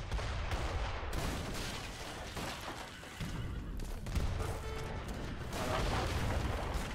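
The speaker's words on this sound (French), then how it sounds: "va attaquer avec ses obusiers qui va oblitérer ses avant-postes" Howitzers pound enemy outposts in the strategy game Age of Empires 3, a dense barrage of booming blasts and crackling impacts firing in quick succession, loud and continuous.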